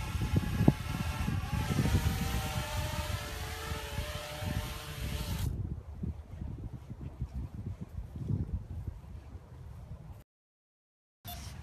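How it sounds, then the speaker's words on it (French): A Parrot Bebop drone's motor whines and buzzes steadily with wind rushing past, then the pitch drops as it lands on low battery and the sound fades before cutting out briefly. "On va faire un landing du drone."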